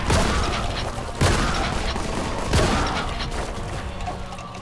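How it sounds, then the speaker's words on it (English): Three sharp gunshots in the video game Warhammer 40,000: Boltgun ring out at roughly even intervals, each followed by a reverberant decay under a steady background rumble. "Oh, I thought I heard more gunshots."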